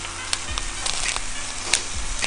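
Jalapeño peppers for fire-roasted salsa sizzle steadily in a hot pan, a continuous close hiss broken by a few brief clicks and pops, with no talking.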